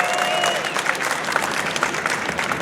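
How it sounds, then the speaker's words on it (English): Crowd at an environmental advocacy rally in Columbus, Ohio giving warm, sustained applause, dense and even, with a faint whistle-like tone near the start. "So give those groups a big, warm round of applause."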